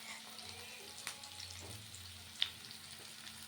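Onion, green chili and tomato fry together in a pan, a soft, steady sizzle with a few faint stirring clicks and scrapes, fairly quiet and without voices.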